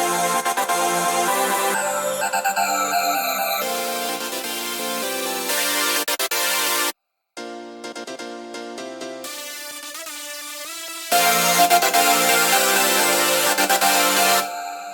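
A stacked synth chord sequence in an electronic production plays first dry, then after a short gap with a phaser-flanger effect adding sweeping, shifting motion; sustained bright chords, loud and with no voices.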